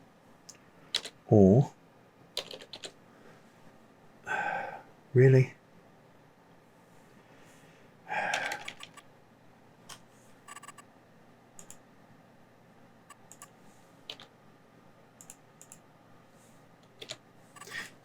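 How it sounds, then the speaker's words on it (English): Keyboard keys clatter in a few short bursts while setting up a farm in Farming Simulator 22 on the Elm Creek map, with someone talking over most of it. "you can type it in on the keyboard as I am"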